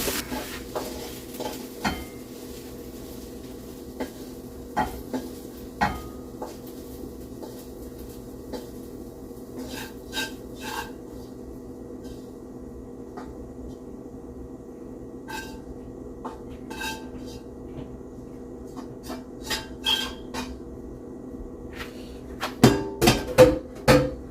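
Spoon and spatula scraping and clinking against a pan as home-made breakfast fried rice is moved into a serving dish, a steady series of light metallic taps over a faint background hum, with a louder clatter at the end.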